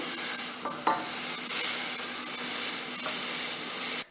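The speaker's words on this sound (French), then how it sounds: "on n'hésite pas à remuer un petit peu pour qu'il y ait un mélange bien homogène" Spice dye mixture of water and three spoonfuls of spices stirred in a saucepan for dyeing Easter eggs, a continuous close hissing, swishing wash with a few small knocks of the utensil, no talking.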